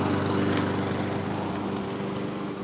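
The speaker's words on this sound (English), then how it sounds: "Get on the lawnmower." A riding lawn mower engine runs at a steady, loud drone, close by and unbroken throughout with no talking.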